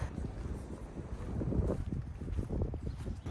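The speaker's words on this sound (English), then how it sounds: "it's kind of windy today. It's hard to hear anything." Steady gusting wind buffets the microphone, a low rumbling roar that swells and fades without pause.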